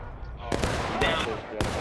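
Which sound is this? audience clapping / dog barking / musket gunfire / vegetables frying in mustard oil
musket gunfire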